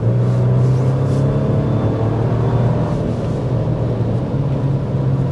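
Steady, loud low engine rumble from a 2025 Ford Ranger's 315-hp V6 under hard acceleration, droning continuously with a smooth, even tone and no talk over it.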